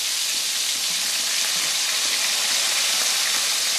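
Ginger frying in hot oil for tel potol, a dense, even sizzle that holds steady and close throughout, with no voices.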